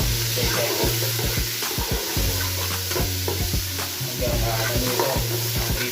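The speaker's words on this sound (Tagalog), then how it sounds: "pagka nag golden brown na guys, lagay na natin ang beef mince" Beef mince frying in a pan for pansit bam-i, a loud continuous sizzle broken by repeated scraping and stirring strokes, close up with no talking.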